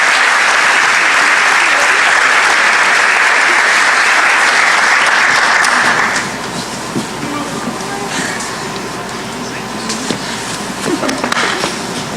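Audience at a South Carolina FFA convention session gives a loud, steady round of applause for a team, dense clapping that fades to a softer patter after about six seconds.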